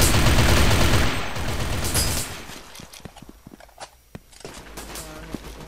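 Gunfire in the online shooter Brain Out: a loud, dense burst of rapid automatic shots for about two seconds, then scattered single shots and clicks with footsteps under a quieter game background.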